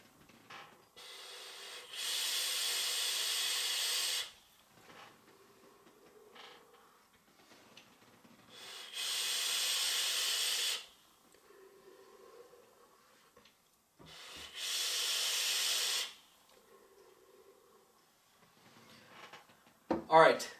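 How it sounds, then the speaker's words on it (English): Three long bursts from a vaping device, each a steady airy hiss of drawn vapor lasting about two seconds and separated by quieter exhales and pauses, while someone reviews an Axiom and DB e-liquid. "I'm going to stop talking and start vaping"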